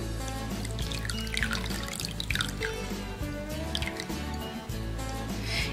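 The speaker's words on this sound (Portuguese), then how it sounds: "Vou colocar meia xícara de água." Half a cup of water splashes and drips as it is poured into a pot of cream cheese for a lasagna sauce, a wet trickle over steady background music.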